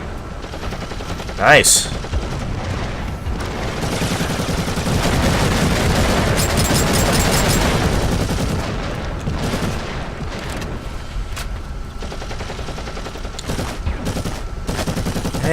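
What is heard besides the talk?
heavy bolter gunfire in Warhammer 40,000 Eternal Crusade video game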